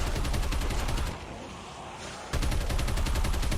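Rapid automatic gunfire rattles loudly in COD Mobile zombies survival mode, a dense continuous burst that briefly drops to a quieter lull before the shooting resumes at full intensity.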